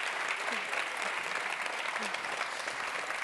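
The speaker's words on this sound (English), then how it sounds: "I think they need a big applause" An audience at a conference session on microplastics gives a big round of applause, steady and full throughout, with faint voices underneath.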